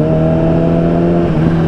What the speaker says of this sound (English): I love that freaking supercharger sound